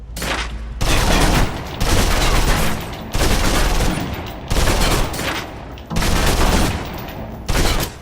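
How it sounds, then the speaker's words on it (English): Submachine gun emptying its clip in the video game Alpha Protocol: six loud rapid-fire bursts, each roughly a second long, separated by short gaps. "Now, let's move on to the submachine gun. Now let's empty the clip"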